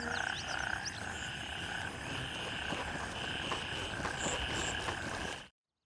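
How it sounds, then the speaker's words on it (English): Dense ambient chorus of frogs and insects from the video game Gray Zone Warfare, with steady croaking and high trilling calls layered into a continuous wash that cuts off abruptly at the end. "Insects and frogs can sound like they're inside your head,"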